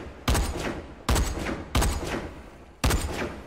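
Gunfire from shooting zombies in the video game Dead Frontier 2, four loud separate shots at uneven intervals, each a sharp broadband crack with a decaying tail over a steady game background.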